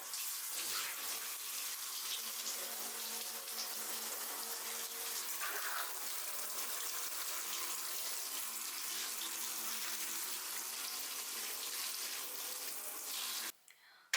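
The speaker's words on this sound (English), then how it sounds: "try and actually rinse the roots off and get rid of all of the soil that's sitting in this tray as well." Tap water runs steadily for about thirteen seconds as soil is rinsed from plant roots over a tray during repotting into pon, a continuous close splashing wash that cuts off abruptly near the end.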